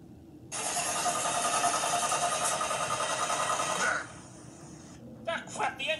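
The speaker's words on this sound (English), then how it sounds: "Ah, crap, the engine died." An animated cartoon car engine sputters loudly in a buzzing, mechanical rattle for a few seconds, then dies away, followed by a few faint scattered noises.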